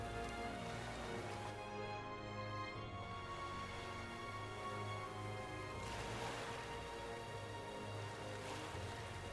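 Rain falling steadily in Metaphor ReFantazio, a constant soft patter layered over a sustained musical drone, holding even and moderately quiet throughout without pauses.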